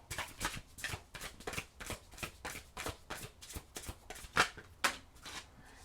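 A deck of tarot cards is shuffled over and over, giving crisp, close riffling bursts in a quick, fairly regular rhythm with no talking.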